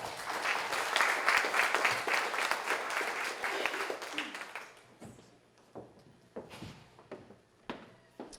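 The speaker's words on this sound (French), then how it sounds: "Une bonne main d'applaudissement, s'il vous plaît, pour Ricky." An audience applauds a firefighter at a recognition evening, a full burst of clapping for about five seconds that thins out to a few scattered claps and taps before fading.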